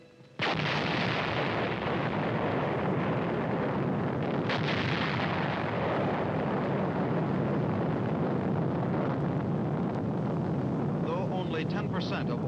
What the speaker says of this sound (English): Within 30 seconds will come the thunderous roar of the explosion 7 miles away.